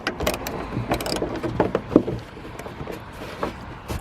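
A ratchet on an extender loosens a headlight bolt on an Opel Corsa D, making quick, close clicking and metallic ticking in uneven bursts over low background noise.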